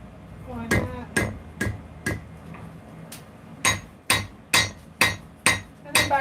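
A hammer strikes a knife blade being forged, ringing out in about a dozen sharp, bright metallic taps, sparse at first and then in a steady rhythm, close and loud.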